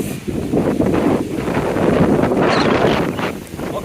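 Strong, gusty storm wind roars steadily across the microphone, a dense rushing noise with swelling surges and no letup.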